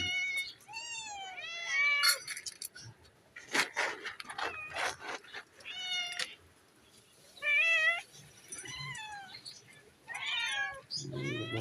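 Several hungry cats meow repeatedly before being fed, overlapping cries near and loud, broken by rustling and clattering between bursts.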